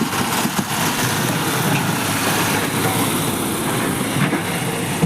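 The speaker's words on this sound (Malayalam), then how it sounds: "അങ്ങനെ വണ്ടി മണ്ണുമായി വണ്ടിയോടെ പുറപ്പെട്ട് കഴിഞ്ഞു" A loaded soil truck pulls away from roadworks on the NH 66 highway. Its engine gives a steady, fairly loud drone that stays unbroken throughout, with no voices.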